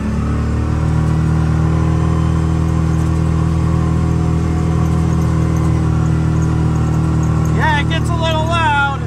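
A Kawasaki Mule MX-Pro 700 EPS utility vehicle climbing a big hill, its engine droning loud and steady under load with a constant hum, and a voice speaking briefly near the end.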